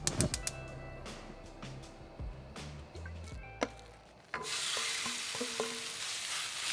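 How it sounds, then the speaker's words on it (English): Pork belly meat goes into the pan and starts frying, turning into a continuous loud sizzle after a few clinks and knocks of cookware at the start, with no talking. "and then I'm gonna start cooking the meat."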